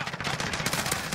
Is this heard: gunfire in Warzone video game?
yes